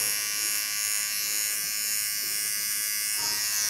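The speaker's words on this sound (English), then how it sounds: "Go into my small clipper." A small electric hair clipper buzzes steadily at close range while trimming short hair on a feminine summer haircut, a continuous even hum with no talking.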